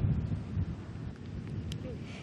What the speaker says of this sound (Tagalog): patuloy ang nararanasang pag-ulan at minsan ang paglakas ng hangin